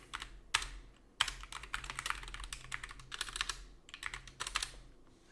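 Computer keyboard typing out network configuration during DHCP and VLAN setup, bursts of rapid close key clicks separated by short pauses, no talking.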